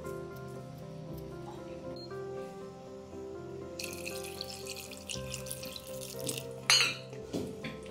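A cup of water poured into a pot of jackfruit and jackfruit seeds, a soft splashing trickle with drips and a brief squeak, then a louder burst of pouring toward the end.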